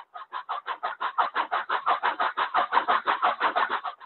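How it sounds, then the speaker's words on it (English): Rhythmic steam chuffs from a Tsunami2 sound decoder in a model steam locomotive working under load, about five even beats per second, clear and close with no voices. "you can kind of hear how that chuff kicks in and out to simulate what the work the locomotive is doing"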